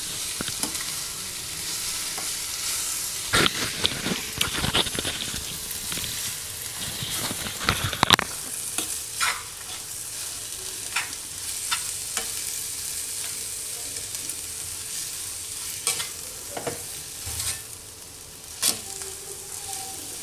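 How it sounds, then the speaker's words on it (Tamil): Paneer cubes sautéing and being stirred in a hot pan, a steady close sizzle broken by sharp scraping and clatter of the spoon against the pan, with no talking. "பன்னீரை போட்டு ஒரு 2-3 நிமிஷம் வதக்கினா போதும்."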